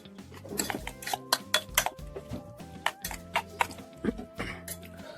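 A spoon stirring salt into a koshimbir salad, tapping and clinking against the bowl in an uneven series of light, close knocks, quiet, with a soft tune underneath.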